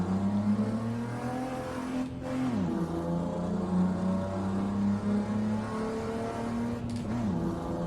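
A Toyota Hilux Champ pickup in Assetto Corsa revs hard through its six gears. The engine climbs steadily, then drops sharply at each shift, twice, as the drone rises again close and loud.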